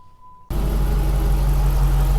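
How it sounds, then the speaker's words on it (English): An SRT engine with a new power steering pump and harmonic balancer idles close by. After a short high beep over near silence, the idle starts abruptly as a steady, loud, low rumble that holds to the end. "Power steering pump is quiet finally."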